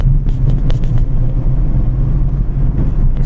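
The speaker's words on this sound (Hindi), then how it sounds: "मैंने सेकंड गियर लगा दिया है मैंने थर्ड गियर लगा दिया" A car engine drones steadily in third gear while driving at around 40 km/h, a loud continuous low rumble with road noise, close and uninterrupted.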